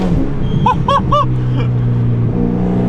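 Ferrari 488 Pista V8 engine blipped lightly on the throttle, with a few quick rising revs over a steady rumbling idle heard from inside the car.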